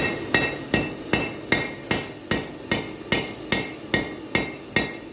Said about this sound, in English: started bashing the steel into the shape of the socket